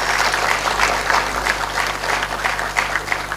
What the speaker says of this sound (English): I request you to please give a big round of applause to them.